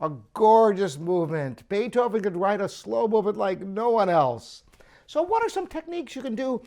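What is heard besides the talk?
No everyday noise stands out behind the speech.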